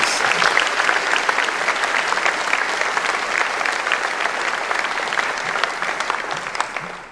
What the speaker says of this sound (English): Di, you are give that a round of applause.